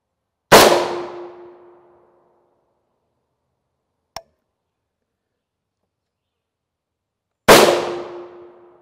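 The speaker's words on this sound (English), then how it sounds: "we'll shoot for the middle of the plate with this round" Rifle rounds striking a Tacticon Armament Level III+ steel armor plate outdoors: two loud sharp shots or impacts several seconds apart, each with a ringing metallic tail, and a tiny click between them.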